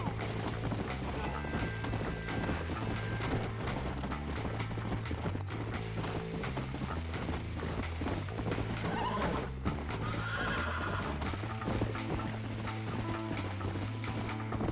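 Horse in the Red Dead Redemption video game on Xbox One, with steady clip-clopping hooves and whinnies over a dense layer of game music and mechanical clatter throughout.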